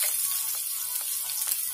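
Ginger and garlic sautéing in hot oil, with a continuous close sizzle and faint crackling throughout and no voice.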